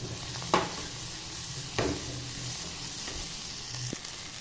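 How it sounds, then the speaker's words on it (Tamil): Chopped onions sauté in oil in a kadai, giving a soft steady sizzle with two or three sharp scraping knocks of a spoon against the pan, faint and with no voices. "அறுத்து போட்டு ஆயில் சேர்த்து நல்லா வதக்கி எடுத்துக்கலாம்."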